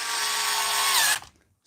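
A battery-powered mini chainsaw runs at a steady high-pitched whine for just over a second, then cuts off abruptly and spins down to silence, heard close up.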